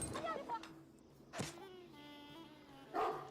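Dog-like barks and yips from wolves in Age of Empires IV, short and fairly faint, mixed with soft background sounds.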